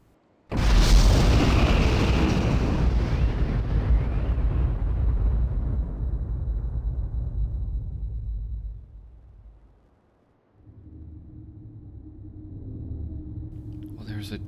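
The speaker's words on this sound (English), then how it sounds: "there's a giant explosion sound" A huge explosion in the game Riven bursts in suddenly, a close, loud, deep boom that rolls and slowly decays over several seconds before dying away, then a low steady hum rises after a brief silence.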